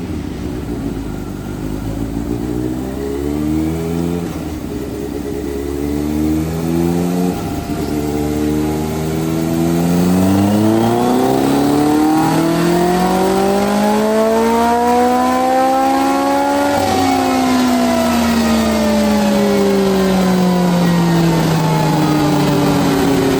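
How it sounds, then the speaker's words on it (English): A Kawasaki motorcycle with a hand-held dyno ignition runs on a dyno, its engine climbing loudly through the rev range in sweeping pulls, then holding a high, steady wail near the end, with no talk. "as you can see the bike on the dyno here"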